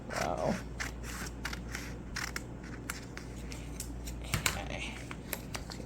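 Scissors snip through vinyl and painter's tape on a bottle being prepared for etching, a few faint, brief cuts and crinkles over a low background hum.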